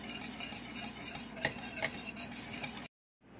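Stirring pastry cream in a pot after adding vanilla extract, with a steady scraping and clinking of a utensil against the pot. It runs continuously, has a couple of sharper metallic taps, and is close and moderately loud.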